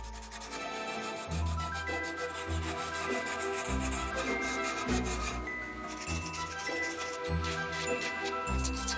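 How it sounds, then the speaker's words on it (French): Hand sanding of dried filler on an old object being restored, a loud close rasping rub in repeated back-and-forth strokes with steady rhythm and a short pause midway. "Et maintenant, on va pouvoir poncer."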